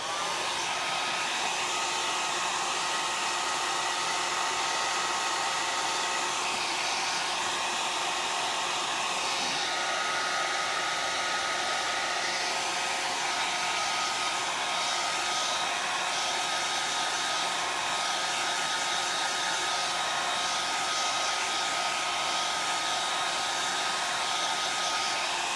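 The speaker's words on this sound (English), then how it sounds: "I'm going to use my blow dryer to kind of dry the chalk quickly." A hair dryer on its cool setting blows steadily and loudly throughout, a constant whooshing roar with a slight whine, no voices.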